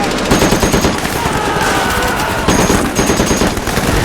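Machine gun fire rattles in a Pacific war battle scene, loud, rapid continuous bursts layered with gunfire and blasts, sustained without a break throughout.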